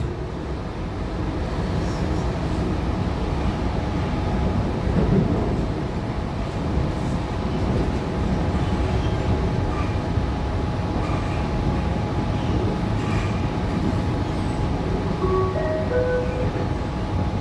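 Sydney Trains T4 Tangara train running between Central and Hurstville, heard from inside: a steady, loud rumble of wheels and motors with faint squeals and clicks throughout, no talking.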